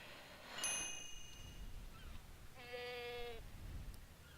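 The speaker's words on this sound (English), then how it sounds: "They actually have goat noises" Goats bleating in the video game Tropico 4, a few short nasal calls with a longer wavering bleat in the middle, faint and set against quiet game ambience.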